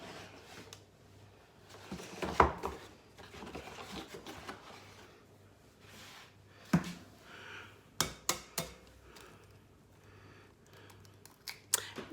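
Eggs cracked against a bowl and dropped into cake mix in a home kitchen, several sharp taps and clicks spread across the clip with quieter handling noise between, close by, with no talk.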